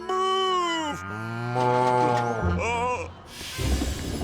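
A cartoon cow moos loudly in a long, wavering, voiced low moo that slides in pitch, followed by a shorter moo and a burst of noisy sound at the end.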